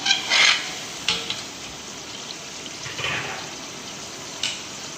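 Boiled chickpeas and water going into frying masala for a large chickpea biryani, a soft background sizzle broken by a few brief splashy bursts and scraping stirs, no talking.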